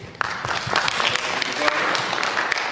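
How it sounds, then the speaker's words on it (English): Audience applause at a Cedar Grove Community Association mayoral meeting, a steady wash of clapping from a crowd that holds at an even, moderately loud level. "Come around with the applause, please"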